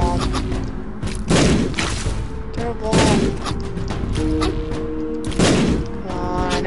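Bombs explode in the dungeon game The Binding of Isaac Wrath of The Lamb, with three loud, separate booming blasts a couple of seconds apart over sustained tonal game sounds.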